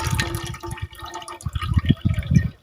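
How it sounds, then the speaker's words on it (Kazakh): Water poured off cucumbers into a container splashes and trickles in uneven bursts, a close, fairly soft liquid pour with dripping at the end. "Бірінші суын 15 минуттан кейін осылай ыдысқа құйып аламыз."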